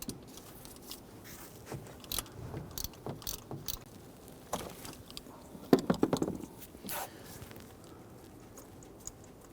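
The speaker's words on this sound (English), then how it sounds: "We're using our 5/8 spark plug socket" Ratchet fitted with a 5/8 spark plug socket loosening a spark plug on a 2007-2021 Toyota Tundra 4.7L V8, giving a run of close, quick mechanical clicks and crunchy turns, with one louder burst of clicking near the middle.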